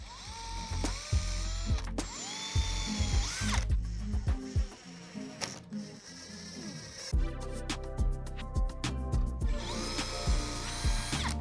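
A power drill boring pilot holes into a wooden dresser base, repeated loud whirring bursts that rise and stop, with ratcheting clicks between them.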